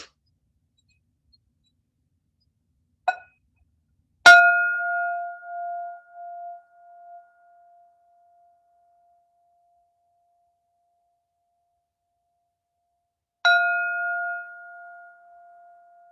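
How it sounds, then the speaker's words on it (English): A bell in a guided breathing and relaxation exercise, preceded by a soft tap. It is struck clearly twice, well apart, each time with a pure, sustained ringing tone that slowly fades into near silence. "Third bell."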